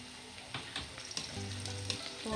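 Onions fry with ginger and garlic in a pan for a Sri Lankan prawn curry, a soft continuous sizzle with a few light stirring scrapes and clicks, fairly faint throughout.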